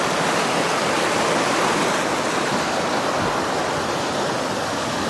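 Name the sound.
mountain torrent rushing under footbridge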